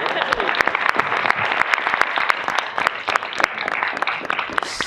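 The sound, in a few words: applause at a school board meeting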